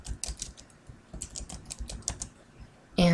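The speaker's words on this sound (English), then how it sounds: "you're going to type her name in here" Brisk typing of a name into a search field on a computer keyboard, a quick close run of clicking keystrokes in short bursts with a pause, ending in a sudden louder noise.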